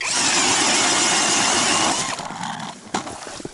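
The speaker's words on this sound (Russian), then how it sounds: "Одной рукой можешь сверлить." A loud, close power auger bores a hole through thin first-season ice of about 10 cm, a steady grinding whir that then drops away into rougher scraping and knocks.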